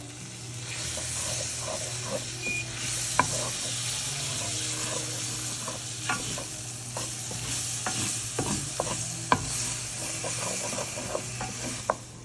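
A roux for a mushroom cream sauce is stirred in leftover meatball fat, giving a steady hissing sizzle with a soft scraping texture. A few sharp clacks of the utensil against the pan stand out.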